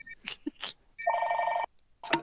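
A telephone bell rings once in a loud sustained burst of about half a second, set between short bursts of speech before and after.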